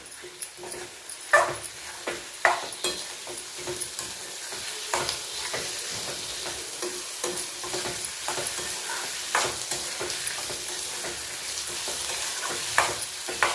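Tomatoes stirred into frying onions in a pan, with steady sizzling broken by repeated scraping and clattering strokes of a spoon against the pan, close and fairly loud, no talking.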